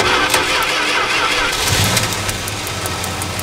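A car engine cranks and catches during a spark-quality check with one plug wire pulled and a screwdriver inserted, a short starter whirr followed by the engine firing and settling into a rough idle.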